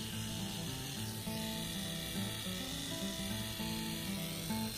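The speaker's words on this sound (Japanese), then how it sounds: "周りの細かい毛をシェーバーで切っていきます。" Electric shaver trimming fine eyebrow hairs, a steady quiet motor buzz with faint tonal hum and light cutting texture, continuous and close, without speech.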